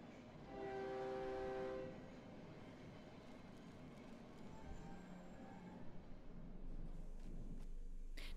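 In the horror video game Cry of Fear, a train rushes through a metal grate. A horn blares early, then a continuous rumbling roll builds and grows louder toward the end, with no talking.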